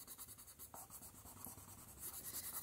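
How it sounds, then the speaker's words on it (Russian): A green pencil scratching across paper while a mushroom picture is coloured in, with soft rhythmic strokes repeating close by and quietly, back and forth. "Разукрасим зеленым карандашом."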